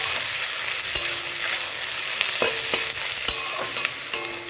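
Onion and garlic sizzle steadily in hot oil for a chicken dish, with a few sharp clinks and scrapes of stirring breaking through the continuous frying hiss. No one speaks.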